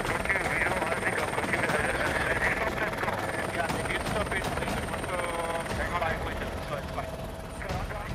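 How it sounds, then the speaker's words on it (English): A police helicopter flies low overhead, its steady rotor drone loud and continuous throughout while people talk over it. "a police chopper comes in low with backup"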